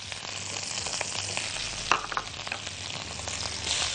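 Onions going into hot ghee with a mirepoix of carrot and celery, a close crackling sizzle with a couple of sharp spits and light stirring scrapes, no talking.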